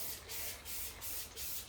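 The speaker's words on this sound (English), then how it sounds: "Just cleaning off the trunk with the spray bottle." Spray bottle misting water onto the trunk of a mallee-style bonsai, four quick hissing bursts in an even rhythm, close and fairly soft, with no voices.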